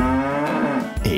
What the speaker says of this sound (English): This animal is cow.